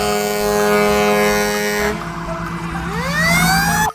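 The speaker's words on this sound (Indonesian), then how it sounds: "Di sini ada mobil pemadam kebakaran" A toy fire truck plays a loud electronic siren nearby, a steady wail that shifts pitch midway and then sweeps upward again before cutting off abruptly.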